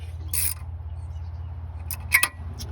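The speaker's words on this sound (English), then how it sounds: "Hear that clicking? That's those rings cracking free in the cylinder." Piston rings crack free inside a car engine cylinder as a few sharp, sparse clicks, one early and a tight cluster near the end, over a low steady hum in a quiet space.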